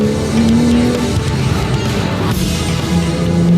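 A Porsche sports car driven hard on a road in oversteer, engine roaring steadily and loudly with tire squeal tones rising over it.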